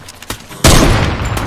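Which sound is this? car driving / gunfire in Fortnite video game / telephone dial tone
gunfire in Fortnite video game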